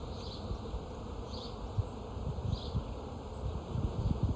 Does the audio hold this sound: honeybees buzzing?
yes